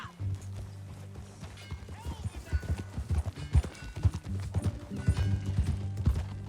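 Horse hooves clip-clop steadily in Red Dead Redemption 2, close by and rhythmic, with a low music bed beneath and spoken voices breaking in over the steps.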